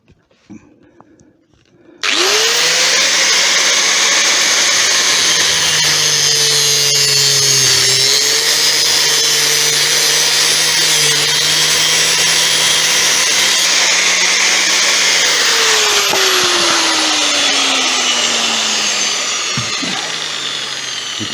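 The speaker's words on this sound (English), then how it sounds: "I'll just grab a grinder and cut that off" An angle grinder cuts a metal fitting off a Vevor 30-litre pressure pot, starting abruptly after a brief pause and then holding a loud, steady high whine for many seconds that slowly sags in pitch toward the end.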